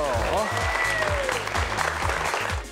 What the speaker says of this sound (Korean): 오늘의 주인공 두 분을 큰 박수로 모시겠습니다